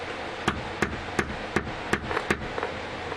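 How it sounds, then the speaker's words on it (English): Hammer taps a wooden dowel into an arrow nock, six or seven sharp, evenly spaced knocks close by, each a crisp woody strike over a low background hum. "Take the hammer, set it in."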